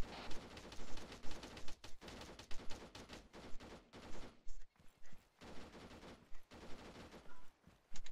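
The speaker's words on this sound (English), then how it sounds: "I hear the MG firing inside the factory, but I don't see it" Machine gun fire in Arma 3 around a factory, repeated bursts of rapid shots at middle distance with short pauses between volleys, echoing and continuous throughout.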